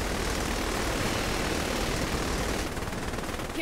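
In the video game Saints Row: The Third, a helicopter's steady roaring rotor and engine noise fills the scene, loud and continuous with a dense, broadband wash.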